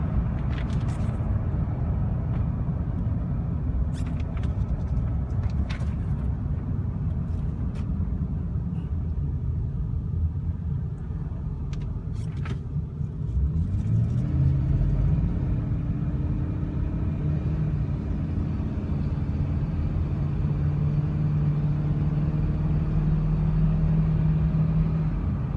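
A 2004 Ford F250 pickup truck drives along with a steady, low engine rumble and road drone, close and continuous, with a gear change and rising engine tone partway through and brief clicks early on.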